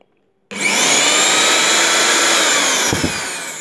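A kitchen mixer grinder, under repair for a faulty overload switch, switches on abruptly and runs with a loud, steady high-pitched whir, with a brief clunk near the end.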